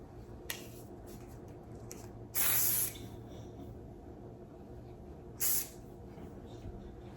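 Texturizing hair spray hisses onto thick wavy hair in two short, loud bursts about three seconds apart, each under a second long, over quiet room tone.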